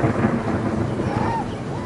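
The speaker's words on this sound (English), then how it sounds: "I hear some thunder." Thunder rumbling during a rainstorm at home, with steady rain noise filling the whole stretch and a low continuous roll of thunder underneath, moderately loud and without any talk.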